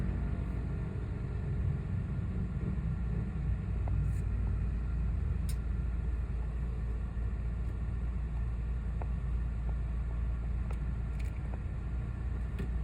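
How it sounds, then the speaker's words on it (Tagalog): Inside a car during 6 p.m. evening rush hour traffic in Manila, heading to NAIA Terminal 1, a steady low road and engine rumble continues throughout, with faint occasional ticks and no talking. "Grabe, traffic. Rush hour."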